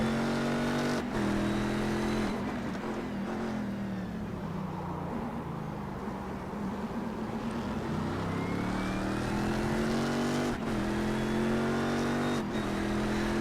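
Race car engine in the iRacing sim at Motegi, holding a steady high drone, dipping as it slows for a corner, then climbing as the throttle comes back on, with sharp shift blips around the pitch changes; loud and alone.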